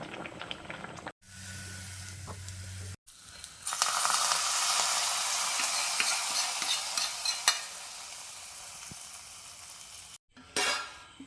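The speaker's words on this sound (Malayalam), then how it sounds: "അരിഞ്ഞു വെച്ച ഉള്ളി വറവിടാം" Chopped small onions hitting hot oil to temper a fish curry, a loud hiss that bursts in and then holds as a steady sizzle with some stirring clinks. Short quiet gaps and handling noises break it up, and no one speaks.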